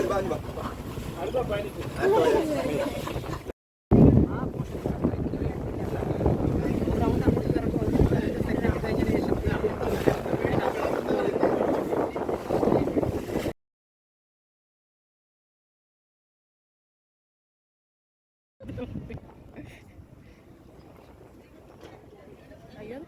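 A boat on Ashtamudi lake in Kollam, its engine rumbling in a steady wash with heavy wind buffeting the microphone, broken by a long silent gap before a fainter stretch of the same droning motion returns.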